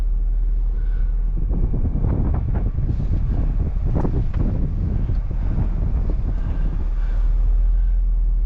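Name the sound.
wind blowing on alpine mountain pass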